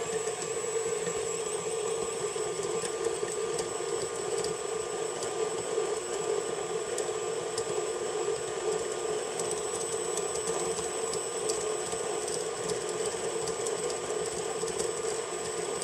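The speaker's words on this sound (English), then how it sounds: "And we're just going to throw that into my stand mixer." A stand mixer beats butter at medium speed for oatmeal cookies, giving a steady, even motor whine and hum that holds unchanged throughout at a moderate level, with no voices.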